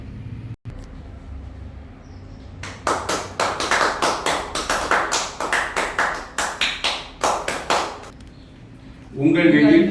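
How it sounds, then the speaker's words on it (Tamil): A live audience gives a burst of clapping after an answer at a Tamil talk on palm trees: a loose run of sharp, separate claps that swells and fades over several seconds, then a voice starts speaking. "ஜோரா கைத்தட்டுங்க"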